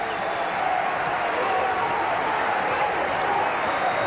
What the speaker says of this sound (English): Now the crowd trying to get the Scarlet Knights up.